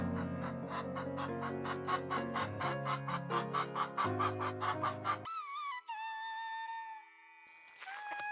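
Chickens on a poultry farm cluck and call in a rapid, regular series, followed by a few higher, drawn-out tonal calls that sound more like a rooster or a processed effect.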